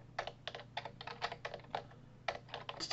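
Keys on a computer keyboard tapped while typing code, a quick run of close, crisp clicks in short uneven bursts with a brief pause partway through, no voices.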